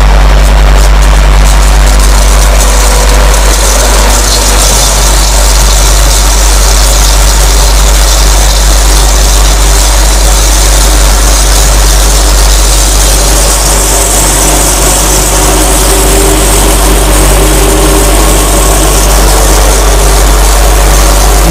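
Pelton wheel turbine lab rig running under water supply in a fluid mechanics lab, a steady loud low hum and broadband whir held throughout, with no voices.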